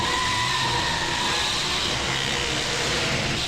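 A car in a fast getaway from police gives a loud, steady engine and road roar with a sustained tonal whine, continuous and close throughout.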